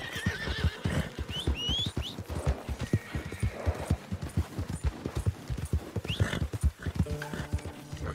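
A horse gallops in Red Dead Redemption 2, its rapid hoofbeats pounding in a quick, even rhythm close by, with several whinnies and snorts over the running.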